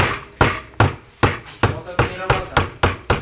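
A new suspension part on a Nissan S15 is struck with a hammer in eight sharp, evenly spaced blows, loud and close, each ringing briefly before the next.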